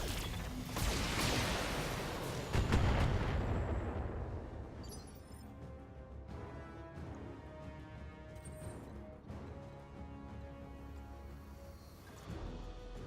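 Mech weapon systems in BattleTech fire at a target in a loud roaring burst of shots and impacts over the first few seconds. The burst fades into a droning tonal background with faint later thuds.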